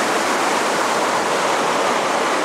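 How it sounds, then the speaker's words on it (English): Swollen stream rushing after heavy rain, a loud, steady broadband roar of churning water heard up close and unbroken, with no voices over it. "Can't hear that noise, that water, look."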